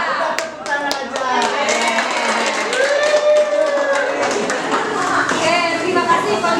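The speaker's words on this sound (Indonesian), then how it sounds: "Kita tepuk tangan aja." A group of teachers and parents at a school session on positive culture and class agreements clap together, a fast crowd patter that runs throughout while a voice and other talk carry over it.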